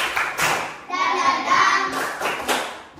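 A group claps a rhythmic spirit clap in a classroom, several sharp bursts of hands in a patterned beat, close and loud, with children's voices and a sustained vocal tone mixed in.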